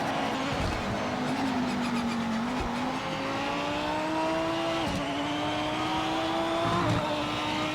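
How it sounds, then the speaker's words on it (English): A Lamborghini engine in the Project Motor Racing racing game drones continuously while driving, its pitch climbing through gears with sharp drops at each shift, accompanied by faint tire squeal and a flat, thin synthetic tone. "Again, terrible sound of the Lambo."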